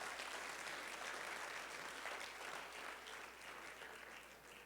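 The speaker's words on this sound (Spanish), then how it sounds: "Denle un aplauso a Dios por eso," A Sunday church congregation applauds God, a soft, distant-sounding patter of many hands clapping continuously and fading slightly as it goes, over a low steady hum.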